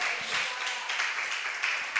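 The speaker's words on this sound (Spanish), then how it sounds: "Dale aplauso a Cristo" Church congregation applauding for Christ during a Spanish-language worship service, a dense steady wash of many hands clapping at moderate distance, continuous across the moment without a break.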